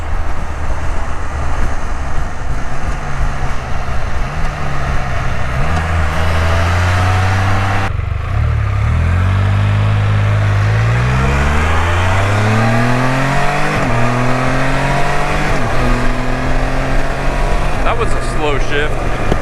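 A car engine revs upward through its gears, the pitch climbing steadily and dropping back at each shift, with one shift hanging briefly before the revs resume; the engine drone is loud and continuous throughout.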